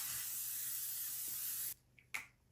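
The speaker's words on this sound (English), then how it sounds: "It feels and smells like I'm just spraying hairspray directly onto my face" L'Oreal Infallible aerosol setting spray hisses onto a face in one steady, fairly close burst lasting under two seconds, then stops, followed by a faint light rustle.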